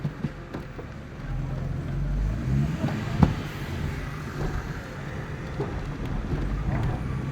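A Lada Vega with a 1.5 engine rolls along on a test drive, heard from inside as a continuous low rumble of engine and road noise that swells and eases slightly, with a brief knock midway.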